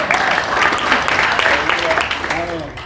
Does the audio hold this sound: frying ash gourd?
no